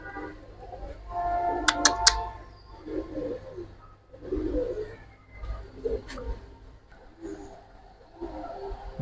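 Pigeons in a Bengali pigeon-selling setting give soft, repeated low coos in short bursts, with a few sharp chirps and some rustling, moderately close and without talk.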